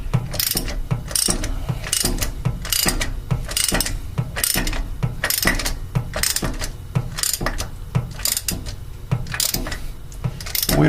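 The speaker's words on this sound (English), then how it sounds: "Turn the ratchet into the installation position. And tighten it up, installing that new anode into that valve flange." A ratchet tightens a new brass anode into a cast valve flange with repeated bursts of sharp clicking, each run of clicks separated by short pauses as the handle swings back and forth, close and crisp.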